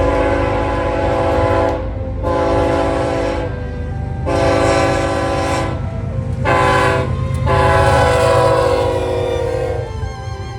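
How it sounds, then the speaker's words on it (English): BNSF intermodal train led by an AC4400 locomotive sounds its horn in a sequence of loud sustained blasts separated by short gaps, over a constant low roar of the moving train. "it was another intermodal. This time it had an AC 4400 EV leader"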